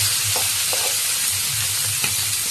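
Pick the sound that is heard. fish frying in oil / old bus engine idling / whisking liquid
fish frying in oil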